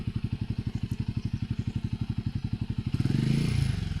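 A Royal Enfield Himalayan 411 motorcycle engine labours up a steep, dangerous off-road mountain track on the Sandakphu route via Nepal, a steady rapid thumping that swells louder and rougher near the end as it strains under load.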